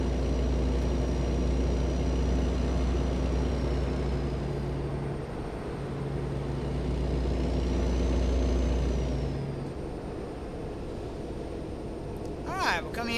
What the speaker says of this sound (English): For a stock sound on this truck, it's not a bad sound.